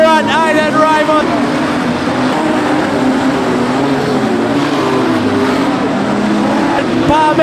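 Modified sedan race cars roar around the Kingaroy Speedway dirt track, engines droning loudly and steadily with rising and falling revs as the pack passes, while a commentator talks over the noise.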